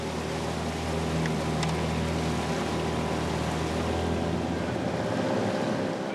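A motorboat engine drones steadily and loudly throughout on strong floodwater current, with a constant low hum over rushing water, no voices.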